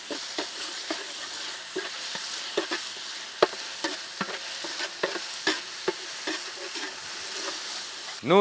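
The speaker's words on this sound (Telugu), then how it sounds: "నూనెలో అల్లం వెల్లుల్లి పేస్ట్ చక్కగా వేగాక" Ginger garlic paste fries in oil with onions for a goat intestine biryani, a constant close sizzle with frequent light scraping clicks from stirring.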